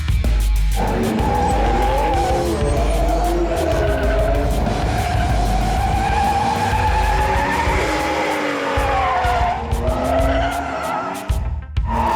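Tires squeal loudly and continuously as a car slides sideways in a drift, with engine roar underneath for about twelve seconds, the squeal shifting in pitch as the slide changes, ending in a few rougher bursts.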